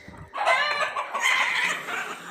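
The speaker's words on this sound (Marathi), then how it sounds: "कोंबड्या चरत आहेत मस्तपैकी" Several village chickens cluck and chatter close by in a quick, overlapping burst while grazing on a farm, with no talking.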